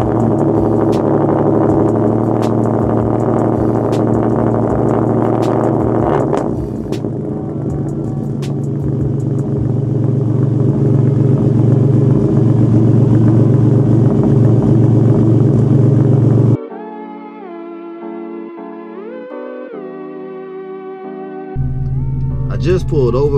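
A Hyundai Genesis Coupe 3.8 drives along with its engine droning loud and steady from inside the car, and the tone shifts partway through as the sound briefly changes character before the engine returns.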